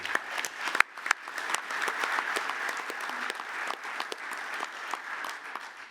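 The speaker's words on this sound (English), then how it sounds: "Let's give them a round of applause as well." Steady round of applause from a conference audience during a presidential address, with loud individual claps near the start before settling into a fairly even, moderately distant patter that continues for six seconds.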